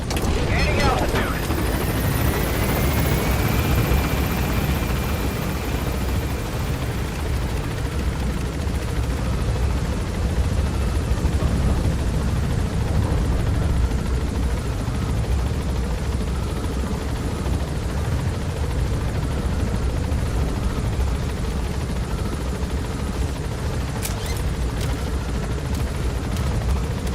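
A helicopter in Metal Gear Solid V climbs with a loud, continuous rotor roar and turbine whine, a rising tone early on, steady and close for the full stretch.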